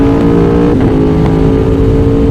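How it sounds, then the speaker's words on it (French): A 2020 Aprilia Tuono Factory motorcycle fitted with an Akrapovic exhaust revs hard, a loud, dense engine roar that holds steady with brief surges, close by and with no talk over it. "On va faire une petite accel déjà pour voir un peu ce que ça donne."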